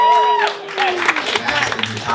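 Audience clapping and cheering at a slam poetry competition rise in a loose wash of hands after a whistle-like tone fades, with a voice talking over it, moderately loud and close.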